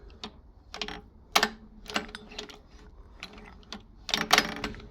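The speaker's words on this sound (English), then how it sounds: "It's all gear and cam driven in the top here, and basically this drives our needle here." Gear and cam drive in the head of a sewing machine clatters in quick irregular mechanical clicks and ratcheting bursts, close and fairly loud, with no voices.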